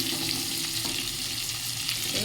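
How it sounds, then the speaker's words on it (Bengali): Pointed gourd (potol) pieces fry in hot oil, producing a continuous, even hiss of sizzling at close range with no voices. "এবার এই পটলগুলো ভাজবো পটলগুলো একটু ভাজা ভাজা করে তুলে নেবো"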